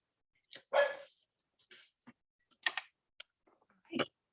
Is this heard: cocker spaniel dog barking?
yes